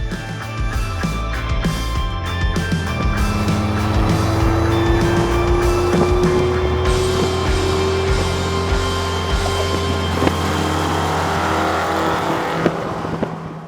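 Cars drive in a group on the road to Amelia: loud, continuous engine roar with a rising whine, passing motors and brief tire noise, all without any talking.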